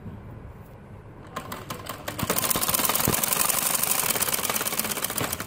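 A sewing machine stitches fabric for a salwar hem, starting after a quiet moment and settling into a fast, steady mechanical clatter that runs close and continuous to the end; no talking.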